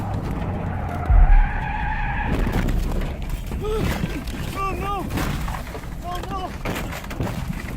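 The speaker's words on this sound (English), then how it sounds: "he lost control of the vehicle and found himself skidding perilously close to the edge" A car skids on a sharp mountain road curve, caught on a dash cam: a sustained broad rumble of tires and engine carries through, with a brief louder impact-like burst early on and warbling tonal sounds under it.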